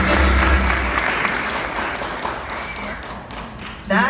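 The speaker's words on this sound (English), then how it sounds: "Another round of applause for him." Crowd applause at a Six Flags Over Texas theme park event unveiling a giga dive coaster, clapping strong at first then thinning and fading, a loud thump near the end.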